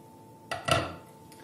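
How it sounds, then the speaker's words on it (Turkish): A metal cooking pot lid is lifted off a pot of milk for homemade white cheese, giving a short soft clank and scrape in an otherwise quiet kitchen. "Şimdi tenceremizin kapağını açıyoruz."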